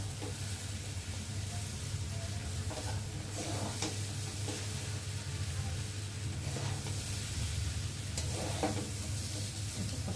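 Chowmein stirred in a frying pan, a continuous soft sizzle with intermittent scraping strokes of the utensil, close and fairly quiet.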